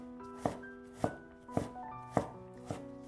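Knife chopping an ingredient into small dice on a cutting board for a pork bun filling: five sharp, evenly spaced chops at a steady, unhurried rhythm, close and clear over soft tonal background music.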